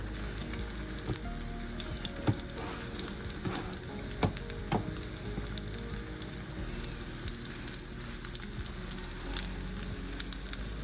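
Oil sizzles steadily in a pan as spring rolls fry at close range, a continuous crackling hiss broken by sharp pops and occasional clinks, with no one speaking.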